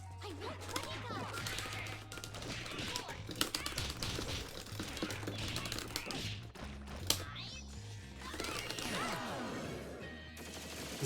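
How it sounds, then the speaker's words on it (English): Fast, dense joystick and button clicking while playing Skullgirls, close rattling taps mixed with game hits and background music, with a few sharper knocks standing out. "Hope you like the sound of previous joystick clicking."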